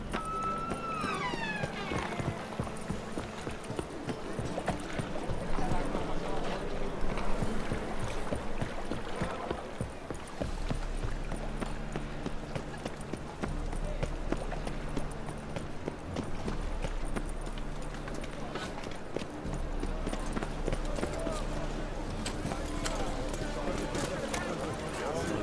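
Roach the horse trots through The Witcher 3, hooves clip-clopping steadily beneath continuous game music and ambience, with a brief line of dialogue early on.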